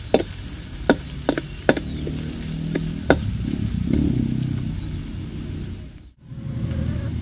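Onion and garlic sautéing in a pan for shrimp pancit canton guisado, a steady close sizzle with a few sharp clicks of a utensil early on, then a brief dropout before the frying resumes.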